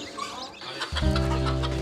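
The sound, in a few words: chickens clucking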